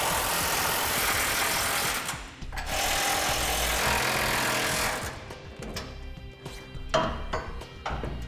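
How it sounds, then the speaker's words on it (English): A power tool tightens bracket-to-frame fasteners on a Ram truck fifth wheel installation kit, with long loud buzzing runs broken by pauses, then shorter bursts and clicks, close by and without speech. "we'll go ahead and tighten down the bracket to frame fasteners."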